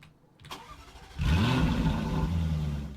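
A powerful muscle car engine in a video game cranks, catches and roars to life, then settles into a deep, rumbling idle with a slight rev; close and loud.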